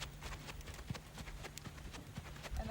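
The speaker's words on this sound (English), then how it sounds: "And the flat walk is just like the other horses, gaited horses' gaits" A barefoot Rocky Mountain Horse moves in a flat walk, its hooves clip-clopping in a steady four-beat rhythm at moderate distance, fairly soft against a faint background hum.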